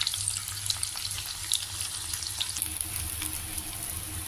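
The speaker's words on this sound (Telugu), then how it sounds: "మొత్తం అన్నీ వేగాయి బెండకాయలన్నీను బాగా ఫ్రై అయ్యాయి" Okra masala curry fries in a pan with a steady, close sizzle and crackle, and occasional stirring scrapes. No one speaks.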